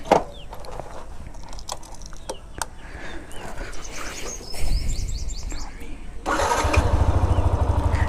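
A Yamaha R15 V2 BS3 motorcycle engine starts up outdoors, catching near the end and settling into a steady close idle after clicks and chirping birds, with people talking nearby.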